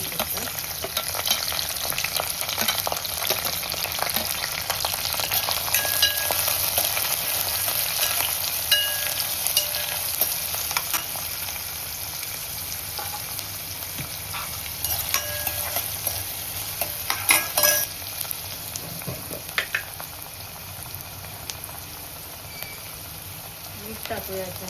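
Onion, green chilli and curry leaves frying in a pan for a village-style egg curry, a steady dense sizzle running throughout with occasional stirring scrapes, close and fairly loud, no talk.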